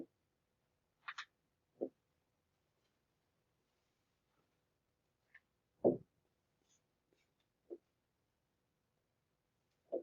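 A pen scratches out short, separate strokes while drawing a graph, several brief marks spaced across quiet pauses, close and fairly soft with no talking.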